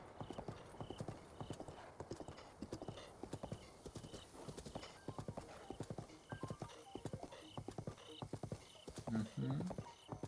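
Steady clip-clop of horse hooves from a mount ridden in the Zelda: Breath of the Wild video game, a regular trotting rhythm up close with a brief whinny near the end.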